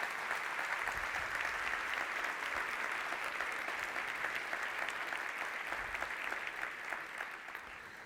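A crowd claps steadily and loudly for several seconds, a dense continuous wash of applause that eases slightly toward the end.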